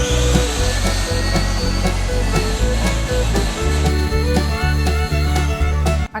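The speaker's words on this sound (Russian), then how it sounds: "выкладываем часть нашей массы в чашу блендера и пробиваем до получения однородной жидкости" A kitchen blender purees a gazpacho soup mixture, its motor droning loud and close in a steady, pulsing whir that churns without a break before cutting off at the end.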